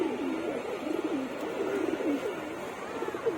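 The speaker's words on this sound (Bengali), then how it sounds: "আর সবজি নাপ্তা কবুতররা দেখেন এখনো ডাকাডাকি করতেছে" Pigeons coo repeatedly in a loft, a steady overlapping chorus of soft, rolling calls with no pause across the whole stretch, heard close and moderately loud.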